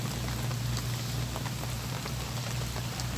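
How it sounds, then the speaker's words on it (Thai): Rain pours down in an even, unbroken wash of drops pattering on surfaces, with a low rumble underneath and no talking. "เป็นเรื่องธรรมชาติครับพบกับฝนฟ้าครับพี่น้อง"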